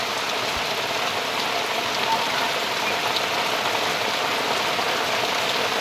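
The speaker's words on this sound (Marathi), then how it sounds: "बऱ्याच प्रतीक्षांचा आता पाऊस आलेला आहे आज" Rain falls steadily outdoors on a farm, a loud, even, continuous wash of patter with no talking.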